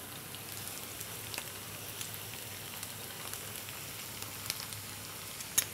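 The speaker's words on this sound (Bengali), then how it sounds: "আমরা পেঁয়াজটা একটু ফ্রাই করে নিচ্ছি" Onion frying in a pan, giving a steady, soft sizzle with faint crackles throughout and a slightly sharper pop near the end.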